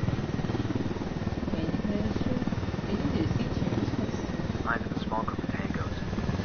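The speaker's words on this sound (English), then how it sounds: "I spot a helicopter." A helicopter in Ghost Recon Wildlands gives off a continuous low, pulsing rotor thrum, heard steadily beneath players talking over it.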